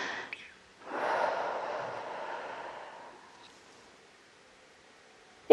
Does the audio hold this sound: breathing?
yes